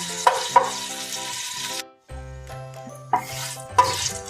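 Green and black cardamom and cloves frying in oil for sweet jaggery rice, a sizzle broken by sharp metallic clinks of a spoon against the pot, with a brief silent gap midway.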